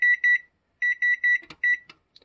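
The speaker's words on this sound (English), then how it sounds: "So I'm going to silence the timer." An oven timer beeps in close, loud double and triple bursts of high electronic tones separated by short gaps, followed by a few faint clicks as it is silenced.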